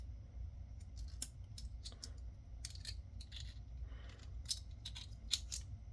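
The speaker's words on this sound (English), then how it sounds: "let's try peeling the shell off" Plastic shell being pried and peeled off a Cisco-compatible GLC-LH-SM 1310nm SFP transceiver module, with a series of small sharp clicks, snaps and scrapes close by over a low background hum, with no talking.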